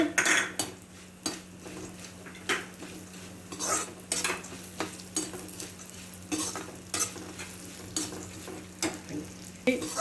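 Cashews and raisins fry in a pan with a soft continuous sizzle, broken by frequent scraping and clinking as a spoon stirs against the metal. Up close and fairly quiet, with no talking.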